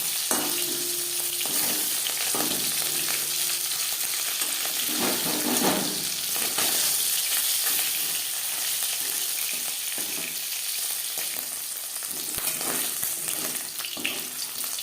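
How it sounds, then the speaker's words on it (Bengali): Small pakal fish fry in oil in a pan, giving a steady, dense sizzle with occasional stirring and scraping sounds throughout, close and moderately loud with no voices. "মাছ ভাজা হয়ে গেছে"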